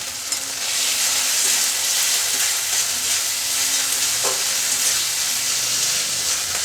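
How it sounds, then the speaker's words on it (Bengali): Chopped tomato with spices and salt fries in a pan for a fish and helencha greens dish, giving a loud, steady sizzle that runs unbroken throughout, with no talking. "টমেটোটা মশলার সঙ্গে একটু ভেজে নেব।"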